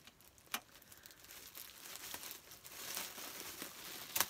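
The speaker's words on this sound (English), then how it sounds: "I didn't want to use these pretty scissors" Scissors cut open crinkly plastic packaging up close, giving soft rustling and crackling with a sharper snip near the start and another at the end, all fairly quiet.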